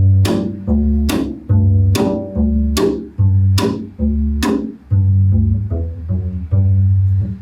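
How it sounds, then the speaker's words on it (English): A double bass played slap style in a country manner: a steady rhythm of deep plucked notes, each paired with a sharp percussive click of the strings against the fingerboard. "So we call that the slap bass."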